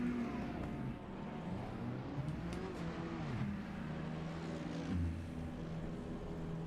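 GT3 race cars lap Brands Hatch in a racing video game, engines revving and shifting through gears in overlapping whines with one car sweeping past, steady and moderately loud.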